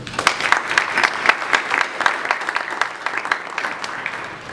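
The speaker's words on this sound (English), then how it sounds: "I want to give another round of applause for our speakers and panelists this morning" An audience at a morning supply chain conference session applauds its speakers and panelists, with dense, steady clapping from many hands continuing throughout at an even level, and no voices over it.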